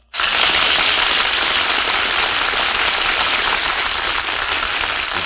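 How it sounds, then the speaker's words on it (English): Loud studio audience applause on a 1950 radio broadcast featuring Bob Hope and Jane Russell, a dense, steady clapping roar starting abruptly and holding for several seconds with no voices over it. "Hear that applause?"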